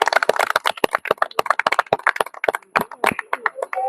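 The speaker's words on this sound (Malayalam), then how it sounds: "കൈയടിക്കുക." Hands clap in a quick, uneven burst of sharp slaps during a motivational coaching session for a football club, loud and close, with a faint voice mixed in.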